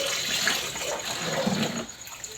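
Tap water runs steadily into a washing machine drum during a repair, a continuous near hiss and gush that eases off slightly toward the end, with no talking.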